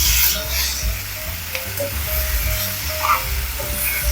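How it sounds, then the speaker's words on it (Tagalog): Pre-cooked ginger chicken stir-fries in sauce with a close, steady sizzle and scattered stirring clatters against the pan. "Nilagay na rin yung na-pre-cook na chicken. At syempre, ang sauce na ginawa natin kanina. Haluin lang natin."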